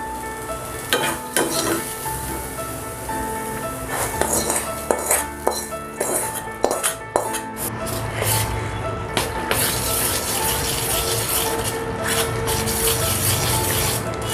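A spoon scrapes and knocks against a bowl in quick, busy bursts as chopped vegetables are mixed into thick rava idli batter. The stirring is loud and close, then settles into a steadier rubbing churn with no speech.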